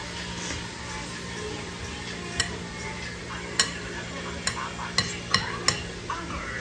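A spoon stirs fruit pieces together in a bowl for a fruit salad, giving a soft steady rustle over room hiss, broken by about six sharp clinks that come more often toward the end.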